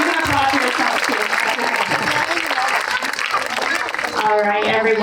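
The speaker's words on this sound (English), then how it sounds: "Fifth graders, you can applaud for yourselves too." Fifth-grade graduates at a school culmination ceremony break into dense, loud, sustained applause that fills the whole stretch, with cheering voices mixed in and a voice rising near the end.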